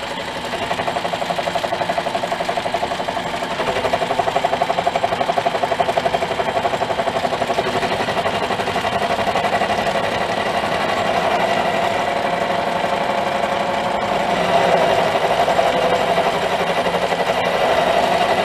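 Mini lathe running at about 300 to 400 RPM while cutting with oil, a continuous close mechanical whir and fast rattle that holds steady for the whole stretch, no talking.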